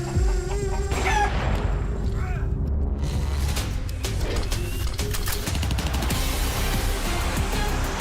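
A chicken clucks in a Counter-Strike match, a few short clucks up front amid gunfire booms and game noise, with a voice faintly heard.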